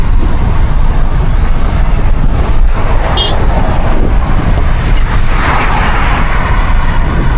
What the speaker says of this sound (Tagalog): Grabe lakas ng mga sasakyan dito guys.